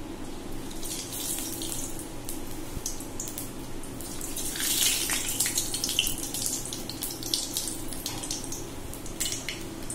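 Nigella seeds fry in hot mustard oil in a kadai with a steady, close crackling sizzle that runs throughout, brightening slightly midway.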